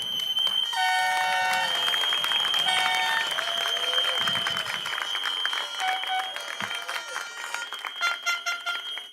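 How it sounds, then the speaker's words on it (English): Audience applause at a political rally for The Progressives, a steady wash of clapping from a large crowd, with tonal music or horn-like sustained notes layered over it throughout. "I want you tonight, ladies and gentlemen, to give me your assurance by a round of applause"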